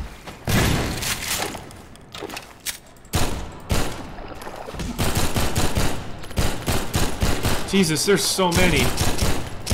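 Rapid bursts of gunfire from Half-Life 2 Episode 2 with the MMod mod, close-range shooting in dense volleys with thuds mixed in, while someone talks over the shots.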